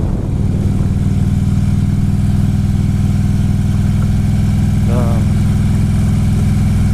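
Harley-Davidson Road King motorcycle riding at slow, steady speed on a gravel road, its engine a constant deep rumble close up and loud throughout, with a voice talking over it.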